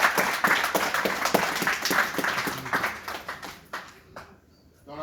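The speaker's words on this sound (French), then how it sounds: "Encore sous vos applaudissements," Audience clapping at a film screening in Brussels, a steady patter of many hands that thins out and fades toward the end.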